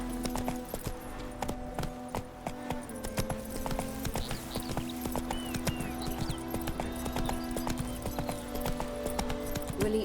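Hooves of Roach, a horse in The Witcher 3, clip-clop in a steady walking rhythm throughout, close and even, over a constant low game ambience with no talk.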